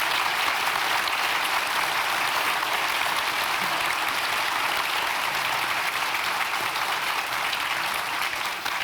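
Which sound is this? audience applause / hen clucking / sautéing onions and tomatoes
audience applause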